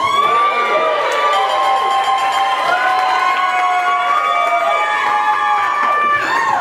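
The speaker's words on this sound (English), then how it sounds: "When you applaud like that," At a live game-show-style bar event, a crowd cheers and whoops loudly with shrill shouts and excited voices, rising and falling in a noisy burst with only light clapping underneath.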